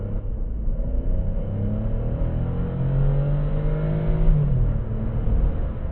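Petrol engine of a Kia Stonic, 100 horsepower with a 7-speed dual-clutch gearbox, revving toward 5,000–6,000 RPM during night driving, a steady rising drone heard from inside the cabin, with no voices.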